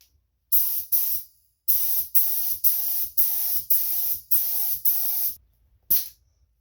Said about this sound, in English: Then we'll put on some clear coat.